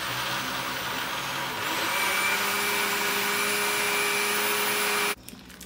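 A blender whirs steadily while mixing lemon tart filling made with lemon juice, a loud continuous motor drone that shifts pitch slightly partway through and then cuts off abruptly near the end.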